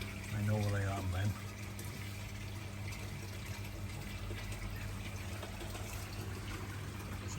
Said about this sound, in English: You can hear there's a bit of air in the pump.